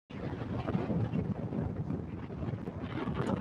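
A boat engine drones steadily while cruising on open water at about ten miles per hour, with rushing wind and water noise covering the whole stretch, loud and close.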